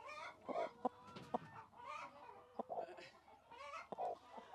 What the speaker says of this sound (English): These chickens are clucking